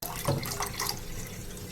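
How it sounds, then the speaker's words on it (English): Water is poured onto 500 grams of rice to soak it for Hyderabadi chicken dum biryani, giving a soft, close trickle and splash that settles into a steady low flow. "I'm going to add water to the 500 gram of rice that I'm going to use it"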